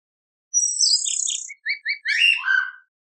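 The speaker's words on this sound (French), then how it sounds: "Le garulax." Laughingthrush (Garrulax) calling, a clear close whistled phrase of sliding high notes followed by a few short chirps and a final rich burst, heard alone.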